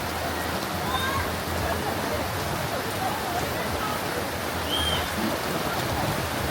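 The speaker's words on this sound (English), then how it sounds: "it's the ocean, so it's pouring down rain" Heavy rain pours down at an ocean beach on an island, a dense, steady hiss that holds unbroken at a constant level throughout.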